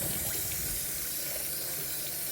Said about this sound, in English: So I'm just going to go ahead and add the water and go ahead and stir that in.